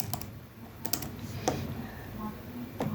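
Typing on a computer keyboard, a run of quick, irregular key clicks over a low room hum, fairly close and steady, with no talking.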